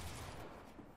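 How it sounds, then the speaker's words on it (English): Assault rifle fire in a video game match, a continuous rattle of rapid shots blending into a dense, fairly faint wash of gunfire with no talking. "it sounds like somebody with an AR is just dropping everything"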